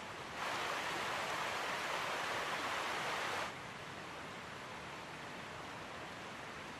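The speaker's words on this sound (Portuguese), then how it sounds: "Numa das curvas do rio se encontra uma incrível cachoeira artificial." An artificial waterfall spilling from a small hydroelectric plant's overflow on the Gállego river makes a broad, steady roar of rushing water, with a brighter, louder burst in the first few seconds that then settles into a continuous wash.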